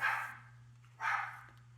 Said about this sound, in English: my dog, I thought who was outside, is now barking